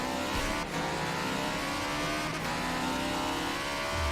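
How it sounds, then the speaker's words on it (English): A race car engine in Forza Motorsport 7 drones loudly and continuously with a steady, high-revving roar and a slight dip partway through. "Got a weird engine noise."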